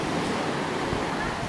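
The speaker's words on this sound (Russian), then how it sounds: "О, какой океан." Ocean surf crashing onto a black sand beach at Puerto Naos on La Palma in the Canary Islands, a continuous loud broadband roar of breaking waves with wind noise and no distinct gaps.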